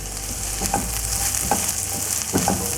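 Green chillies sautéing in a pan with turmeric and pepper powder for fish molly, a steady close sizzle with a few light stirring scrapes, no voices.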